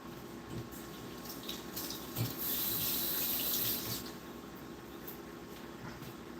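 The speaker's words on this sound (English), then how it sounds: "Let me rinse off my hands." Hands are rinsed under a running kitchen tap: a steady, fairly quiet stream of water that swells louder for a couple of seconds as the hands move through it, with no speech.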